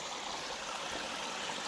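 Water flowing at a small water hole along a mountain trail, a steady broad rushing wash with no break, moderately loud and close, with no voices.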